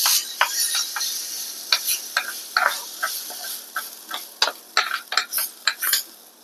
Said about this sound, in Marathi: आणि ही फोडणी ह्यात घालायची.